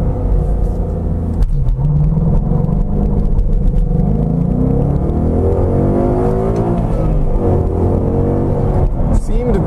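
A 2015 Ford Mustang GT launches from a standstill under launch control on cold tires, its V8 roaring loud and close as revs sweep steadily upward through the run, with a brief voice at the start.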